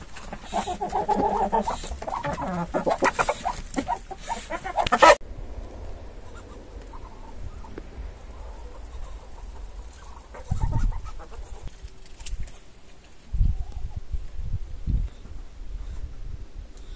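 Chickens cluck beside a coop in a Belarusian village, with busy, close clucking at the start that gives way to quieter outdoor sounds and a few soft bumps.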